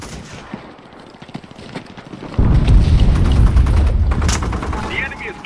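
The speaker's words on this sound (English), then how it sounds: "Calling in artillery!" Artillery barrage in the World War II shooter Enlisted, a battle of USA versus Germany at Dominant Height: heavy booming impacts and rolling explosions kick in suddenly and stay loud, over earlier scattered gunfire, with game voice callouts mixed in.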